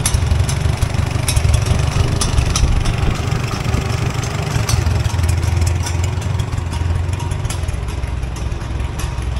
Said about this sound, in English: Engine sounds super smooth.